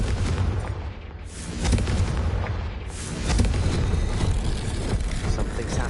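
A Confringo fire blast spell cast in Hogwarts Legacy on PS5, a loud rumbling burst of fiery explosion that swells and rolls on for several seconds, with a second surge midway.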